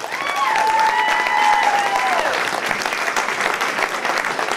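A crowd at a presentation night claps steadily in warm, sustained applause while someone whistles loudly over it, the clapping continuing after the whistle fades.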